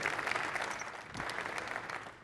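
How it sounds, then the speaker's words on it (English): An audience at a real estate company event claps steadily, a dense wash of applause fading slightly toward the end. "please, a round of applause for them,"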